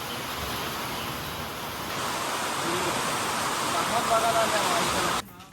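Heavy rain falls hard at a farmhouse holiday home, a dense, loud, steady hiss of downpour that runs unbroken before cutting off abruptly near the end.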